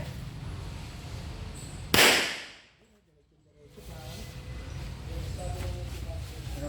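A single sharp, loud firearm shot rings out at close range and fades into a short hush before the background noise returns.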